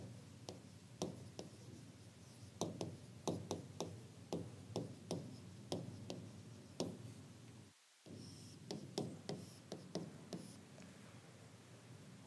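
Chalk or marker writing a statement on a classroom board in a steady run of quick taps and scratchy strokes, with one brief pause, close and fairly quiet with no talking.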